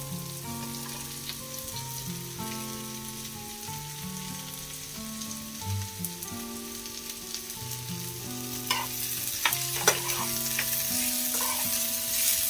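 Chopped capsicum and chilli frying in a pan for egg fried rice, a close steady sizzle with crackling pops, under soft background music and no talk.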